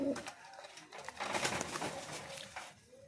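Fancy Lakka pigeons cooing at a pigeon farm, with soft repeated coos and scattered bird calls blending over a busy background of flock noise, fairly close and steady throughout.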